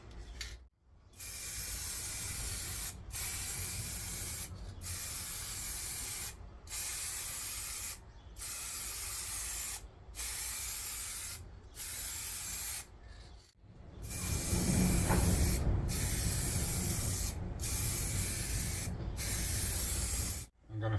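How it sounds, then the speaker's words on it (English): Spray gun applying lacquer to a wooden bookrest piece in a woodshop, loud hissing bursts of a few seconds each with short pauses between passes, a longer stronger pass near the end. "with the lacquer, I'm going to spray one way and then the opposite way"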